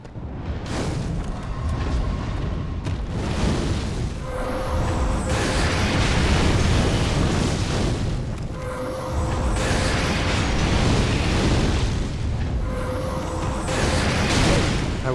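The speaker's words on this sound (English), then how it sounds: "the hovery fireballs just hover and shoot fireballs for all eternity" Hovering fireball enemies in Dark Souls 3's Smouldering Lake keep launching fireballs, heard as repeated heavy whooshing bursts and booming blasts that swell and fade in cycles across a dense, loud game soundscape.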